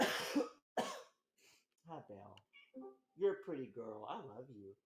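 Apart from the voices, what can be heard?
pet cat meowing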